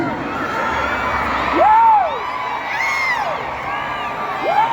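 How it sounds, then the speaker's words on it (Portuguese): A crowd at a panel talk with Smallville actors performs the vaia cearense, the Ceará-style mock booing, with rising and falling whooping shouts over a lively murmur, several voices overlapping up close. "Eu queria que vocês aprendessem a fazer a vaia cearense."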